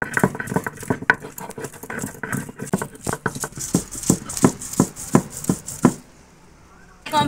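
Bhetkol leaves, green chili and coconut are ground together on a traditional grinding stone, giving a steady series of close, sharp knocks and scrapes in a brisk rhythm that stops near the end.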